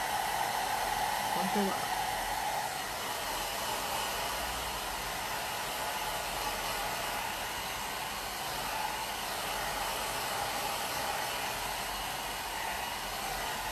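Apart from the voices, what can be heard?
hair dryer drying a plaster piece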